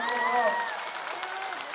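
Audience applause at an election rally in Hajo, Assam, a dense wash of clapping from a crowd that runs through the whole moment, with a voice over a loudspeaker audible above it.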